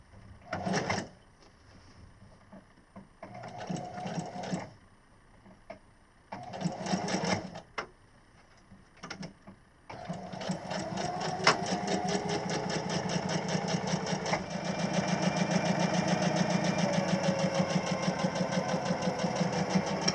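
A sewing machine stitching nylon baffles for a homemade top quilt: short stop-start runs of rapid mechanical clatter at first, then a long continuous stretch of steady, close stitching.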